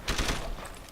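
Rapid gunfire from a weapon in the video game Deus Ex: Human Revolution, a quick burst of several close, sharp shots lasting under a second, with no voice over it.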